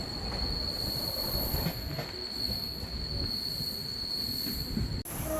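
A Howrah–Jaleswar MEMU local train runs at speed after leaving Kharagpur, with a constant loud rumble of wheels on rail, a sustained high metallic squeal, and a brief sharp dropout near the end.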